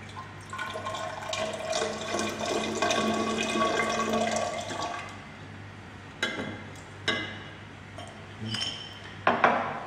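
Sodium hexametaphosphate solution poured into a glass control jar for a hydrometer analysis, a steady splashing liquid pour for about five seconds, followed by a few faint clinks and drips.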